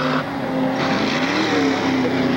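A Class 6 off-road race vehicle roars past at the 17th annual UP 100 off-road race in Bark River, Michigan, its loud engine drone shifting in pitch as it goes by.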